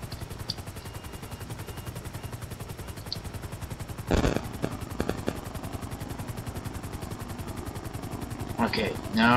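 In the GTA V police mod LSPDFR, a helicopter's rotor beats as a steady rapid chop with a low hum underneath, joined by a few sharp clattering bursts and brief game sounds.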